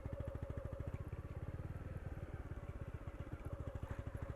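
A motorcycle engine putters in a fast, even rhythm at low idle, close by, while the bike is slowly turned around on a road.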